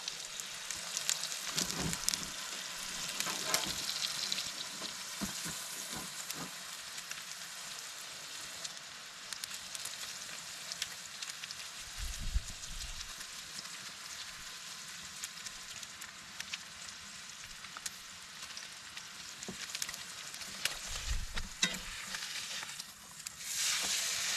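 Butter sizzling in a pan at a Christmas cookout, a faint continuous crackling hiss with scattered pops and occasional low thumps.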